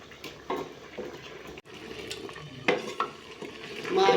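Potatoes hit hot ghee in a pan, giving a moderate sizzle with intermittent scraping stirs and metallic clinks, quieter stretches between the sharper strokes.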